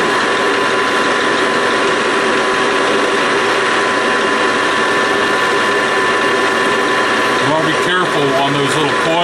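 A machine tool cuts metal while machining a check maker, giving a loud continuous grinding, whirring drone with a steady mechanical hum that wavers briefly near the end.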